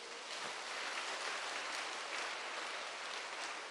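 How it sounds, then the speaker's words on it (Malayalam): A church congregation claps hands in praise, a dense, steady patter of many hands that fills the space evenly and holds at moderate loudness throughout, with no voices over it. "ഒന്ന് കൈ ഉയർത്തി കൈയടിച്ചേ."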